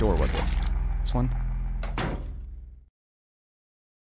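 Door opening in the video game Silent Hill 3, a heavy mechanical clunk and rumbling slide with a few metallic clicks, ending abruptly in silence.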